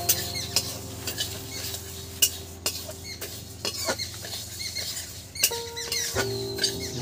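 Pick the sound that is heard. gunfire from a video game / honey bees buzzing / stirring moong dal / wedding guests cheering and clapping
stirring moong dal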